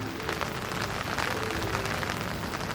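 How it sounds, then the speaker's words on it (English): A passing rain shower at a lake during winter carp fishing in the UK makes a steady, dense patter on surfaces, loud and continuous with no voices. "We're just gonna wait for the rain to die off."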